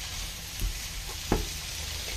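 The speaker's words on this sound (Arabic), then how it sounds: "غادي نضيف دابا هذاك الخيزو هكذا والجلبانه، غادي نشحرهم هكذا واحد شويه" Carrots and peas sauté in a paella pan with seafood paella ingredients, making a steady close sizzle and hiss with a couple of brief stirring knocks. There is no talk.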